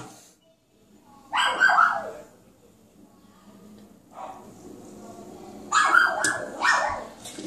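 Several dogs bark outside in two loud bursts, the second with a few quick sharp barks, separated by quieter stretches of low background noise and faint distant yips.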